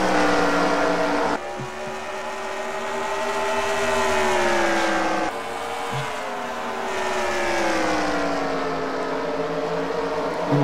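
Race cars roar down the back straight at Bristol in NASCAR Racing 2003, a loud continuous engine drone with pitch sweeping up and down as cars pass, layered tones shifting throughout with no voices.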